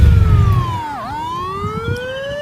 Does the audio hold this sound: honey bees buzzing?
no